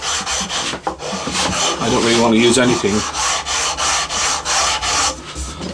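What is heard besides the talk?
sanding block rubbing wood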